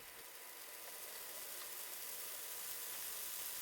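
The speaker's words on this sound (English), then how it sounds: "Beautiful sizzling sound." Chicken for shawarma sizzling in a pan, a faint, even crackling hiss that holds steady throughout.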